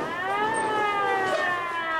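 Ambulance siren in a radio drama, a loud wailing tone with layered rising and falling pitch sweeping continuously, no voices over it.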